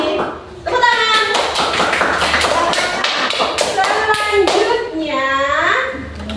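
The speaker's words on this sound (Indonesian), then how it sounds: "Tepuk tangan." Children in a classroom clap after a group presentation on a poster, giving quick, loud, close applause. Excited kids' voices call out over the clapping and into its fading end.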